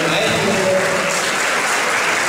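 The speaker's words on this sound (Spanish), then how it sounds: "un fuerte aplauso desde aquí a Eduardo Ruiz Lalo" Sustained applause from an audience honoring a folk dance teacher at a 50th anniversary generation gathering, a dense steady clapping wash that fills the whole moment with no pause.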